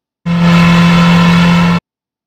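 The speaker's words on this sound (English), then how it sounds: "that was the sound of an internal combustion engine played over the video of this" A combustion engine roars steadily at high revs, loud and close, with a strong sustained drone laid over footage of an electric car; it holds for under two seconds and then cuts off abruptly.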